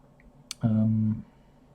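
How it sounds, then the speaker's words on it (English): A male pet cat, just fed, gives one short, close complaining meow after a faint click. "now my cat's joining in. I've just given him his food, but it's maybe not cooked to his liking, so he's complaining"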